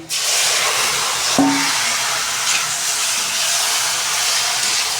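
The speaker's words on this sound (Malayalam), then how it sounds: "ഇനി നല്ല ഇറച്ചി ഇടുവാണ്" Meat dropped into a hot pan of oil with curry leaves, giving a steady broadband sizzling hiss throughout with a brief clatter near the start; close and continuous, no speech.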